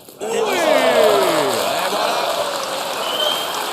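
A crowd in the boulodrome of Tours bursts into sustained applause and cheering during a men's doubles pétanque semi-final, starting abruptly and holding steady at a loud level, with excited shouts and whistles rising above the clapping.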